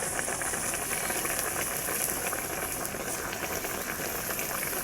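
A pot of tangigi fish soup with pechay and cabbage boils steadily, giving an even, constant bubbling hiss at moderate volume with no other sounds.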